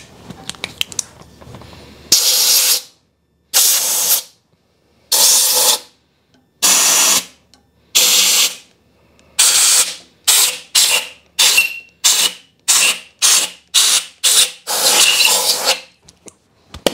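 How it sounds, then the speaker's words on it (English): Compressed air blasts debris out of bolt holes on a 7.3 Powerstroke engine during rear main seal work, in about a dozen sharp, hissing bursts, slow at first and then quicker and shorter, loud and close. "Let's go through and blow these out."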